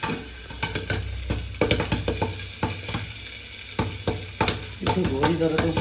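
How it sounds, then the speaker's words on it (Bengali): Popcorn kernels burst one after another in an oiled pan with salt and chili, a close, irregular run of sharp pops and clatter over a faint sizzle. "এই দেখতে পাচ্ছেন আমাদের পপকর্নগুলো ফুটা শুরু করেছে"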